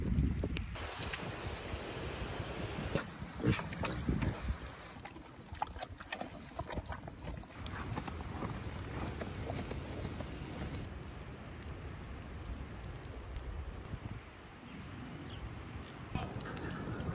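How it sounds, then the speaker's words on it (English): Gusty storm wind roars and buffets continuously over rain at a ranch, with rumbling low noise swelling and easing throughout. "It's getting windy here."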